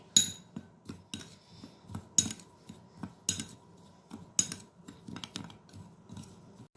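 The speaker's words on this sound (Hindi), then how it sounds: "इन सबको अच्छे तरीके से हम मिक्स कर लेंगे" Salt and red chilli powder being mixed in a bowl for baingan pakoras, heard as a series of quiet scraping clinks of a utensil against the bowl in an irregular rhythm, with no talking.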